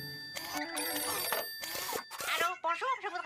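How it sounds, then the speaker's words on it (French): A telephone rings, its bell sounding in bursts as a voice calls out over it, with other noises in the scene partly masking the ringing. "Téléphone!"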